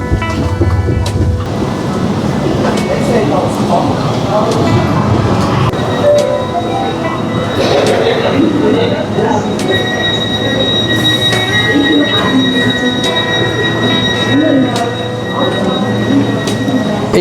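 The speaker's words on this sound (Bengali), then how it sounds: "এখন যে ট্রেনটি আছে সেটি মূলত সরাসরি যাবে না" A Swiss train travelling from Zurich toward Interlaken Ost rumbles loudly and continuously, with steady wheel-on-rail noise and long sustained squeals from the wheels, heard from on board.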